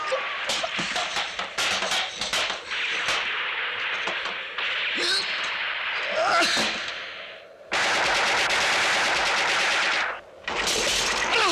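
Bursts of rapid gunfire crackle in volleys, with sharp single shots between them and a long sustained burst toward the end.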